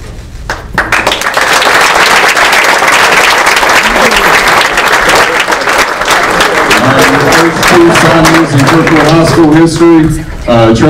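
Loud, sustained applause from a crowd for high school football players at a Kirkwood High School signing day, with dense clapping and cheering that carries on for several seconds as voices and a sung or shouted tone rise near the end.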